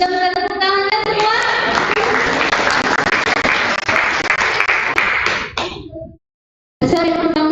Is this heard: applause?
yes